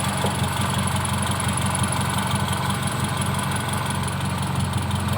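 A car engine idling at low revs, with a steady, continuous rumble and mechanical clatter, close and unchanging throughout with no talking.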